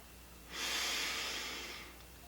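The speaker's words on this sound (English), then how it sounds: "He taught me to breathe in and know I'm breathing in" One slow, audible in-breath through the nose, close and quiet, drawn over about a second and a half during meditation.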